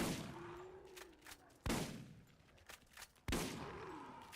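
Shotgun blasts in Borderlands, three sharp, booming shots spaced more than a second apart, with a faint hum and small clicks between them.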